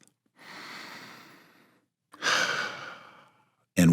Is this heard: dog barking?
no